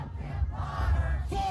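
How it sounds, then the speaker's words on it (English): A street protest crowd in Minneapolis chants loudly in unison, many voices shouting together close by, the rhythmic cry swelling and falling. "So you hear chants of F. Kim Potter right now going throughout the crowd."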